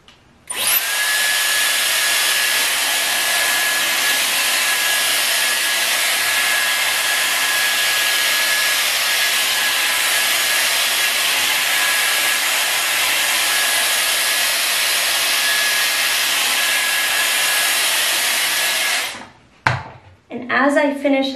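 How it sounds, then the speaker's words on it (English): A Dyson Airwrap hair dryer with a round brush attachment blows steadily and loudly while drying curly hair in sections, a constant whooshing roar with a thin whine, ending abruptly near the end followed by brief handling noises. "now I'm going to switch to the round brush and I'm going to dry the hair in sections"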